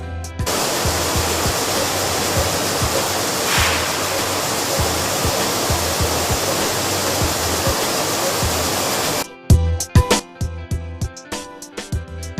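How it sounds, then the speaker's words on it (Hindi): A wheat washing system in a flour mill rinses grain with clean water, giving a loud, steady rush of flowing water that stops abruptly near the end, followed by sharp mechanical clatters. "इस सिस्टम में गेहूं को साफ पानी से धोया जाता है"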